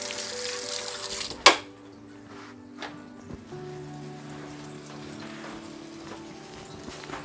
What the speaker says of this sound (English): take your disgusting, wet, nasty egg bread, and drop it right on, and we let that fry